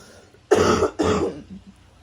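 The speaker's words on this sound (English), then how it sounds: "it really does sound like a smoker's cough" Two harsh, close coughs in quick succession, the second slightly softer, followed by quiet.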